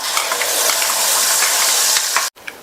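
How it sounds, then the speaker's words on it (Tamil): Garlic chutney sizzles loudly in hot sesame oil in a pan while being stirred, a close, steady hiss with scraping clicks that cuts off abruptly near the end, followed by one brief tap. "இந்த சட்னியை எண்ணெயிலேயே நல்லா 2 நிமிஷத்துக்கு வதக்கிக்கலாம்"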